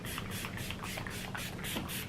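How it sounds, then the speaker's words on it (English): Setting spray is misted onto a face over finished makeup in a quick series of soft, close hissing bursts, fairly quiet, with no talking. "We're gonna spray away the powder look"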